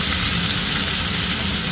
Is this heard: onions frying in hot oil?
yes